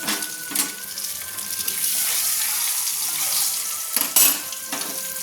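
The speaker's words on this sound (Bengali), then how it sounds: "দেখুন ডিমটা আমার ভাজা হয়ে গেছে।" An egg fries in oil in a pan for egg kosha, with a steady, close hiss of sizzling. A few short clinks of a utensil against the pan break through near the start and end.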